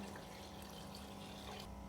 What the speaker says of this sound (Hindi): मैं 4 गिलास पानी ऐड कर दूँगी।